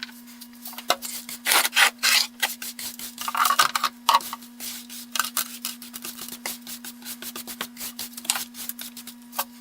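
A stiff whisk broom scrapes and sweeps in short, dry, bristly strokes, repeated in irregular bursts close by, with a steady hum running underneath and no voices.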